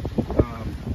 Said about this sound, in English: It's pretty windy today, crazy windy.